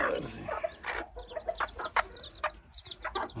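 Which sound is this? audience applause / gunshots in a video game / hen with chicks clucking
hen with chicks clucking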